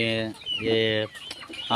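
A mother hen, kept with a brood of twenty to thirty chicks, gives close, loud clucks and throaty calls in short bursts, with brief pauses between them.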